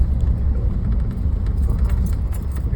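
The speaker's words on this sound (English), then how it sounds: "We're driving a 1960 Ford Falcon" A 1960 Ford Falcon driving along an old wagon road in Somerset County, Pennsylvania, with a steady low engine and road rumble heard from inside the car and faint rattles over it.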